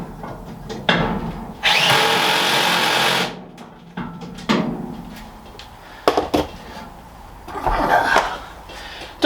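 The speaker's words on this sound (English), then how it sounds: "Don't use your drill as a" Power drill driving screws in a workshop, with short whirring bursts and one longer sustained run, separated by knocks and handling clatter, up close and moderately loud.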